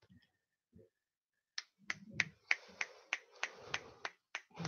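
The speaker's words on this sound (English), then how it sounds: "Finger snap." Series of sharp finger snaps, about a dozen in a steady rhythm, close and crisp, with a few soft low knocks before they begin.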